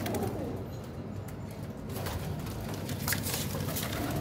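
Pigeons, flying and breeder birds kept for sale in Faisalabad, give low murmuring coos under a dense rustling background, steady and fairly close.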